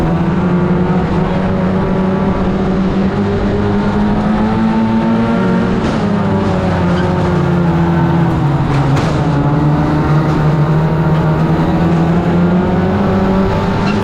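Race cars roar together at the start of a championship race, a dense, loud and continuous engine drone with shifting revs and no pause.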